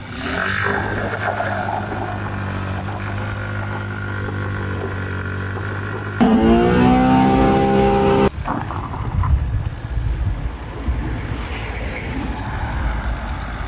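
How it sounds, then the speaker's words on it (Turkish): A scooter revs hard while burning rubber in a burnout, giving a loud, sustained engine drone that climbs into a higher, strained whine for a couple of seconds, then drops back to rough, gusty engine and road noise. "Ama şu an 500 bin abone için lastik yakacağım."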